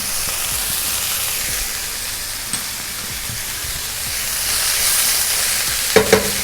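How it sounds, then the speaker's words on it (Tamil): Yellow, green and red bell peppers sauté in a pan for a vegetable quesadilla, a continuous hissing sizzle up close with a couple of brief utensil clinks near the end. "இதை ஆட் பண்ணிவிட்டு அதை சாட்டே பண்ணிக்கலாம்."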